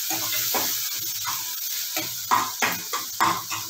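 Spices with turmeric powder frying in a pan, giving a loud, continuous sizzle broken by repeated scraping stir strokes, close by.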